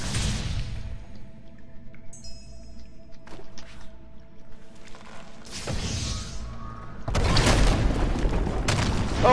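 An egg destroyed in the video game Ori and the Blind Forest: quiet ambient game tones with small clicks, then a soft burst, followed by a louder, dense crunching impact near the end.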